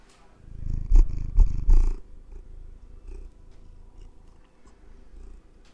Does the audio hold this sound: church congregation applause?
no